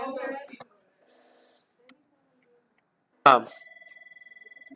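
A telephone rings indoors: after a stretch of talk and near silence, a loud ring starts suddenly and settles into a steady, rapidly repeating trill.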